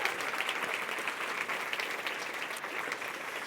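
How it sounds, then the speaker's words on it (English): Audience at a Make-A-Wish charity gala applauding, a dense, steady patter of many hands clapping at moderate distance throughout. "Can we give a little round of applause for the Berg family?"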